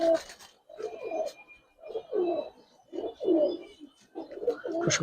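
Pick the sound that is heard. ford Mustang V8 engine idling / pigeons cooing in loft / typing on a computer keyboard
pigeons cooing in loft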